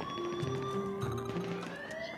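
Police car sirens in the video game GTA5 wail with overlapping tones and steady rising and falling pitch, heard at moderate distance among game noise.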